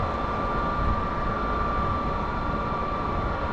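An old Kubota diesel engine in a skid steer, in cold weather, runs with a steady, loud, unbroken drone and a constant hum. There is no talk.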